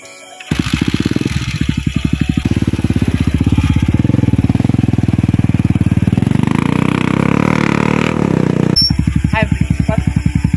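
Motorcycle engine running steadily at close range and fairly loud, its pitch rising and falling through a long stretch before settling back to a throbbing idle.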